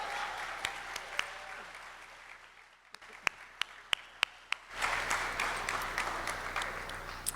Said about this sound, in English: We want to give the awardees another round of applause if we could.